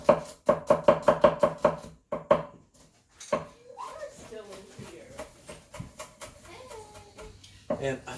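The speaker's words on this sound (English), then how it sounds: "I'm gonna chop that up with the garlic and just mix that up in there" A knife chops garlic on a cutting board, starting with a quick, close run of sharp evenly spaced taps, then a few scattered knocks while a person talks.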